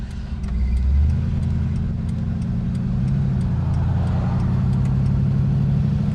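A classic Shoebox Ford's engine drones steadily with a deep, constant rumble from inside the moving car, with faint regular ticking over it.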